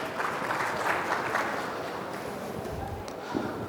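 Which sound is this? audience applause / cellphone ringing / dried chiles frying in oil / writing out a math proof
audience applause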